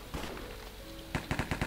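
Rapid gunfire in Counter-Strike, a short burst of automatic shots crackling close and loud after a quieter stretch, five or six sharp reports in quick succession.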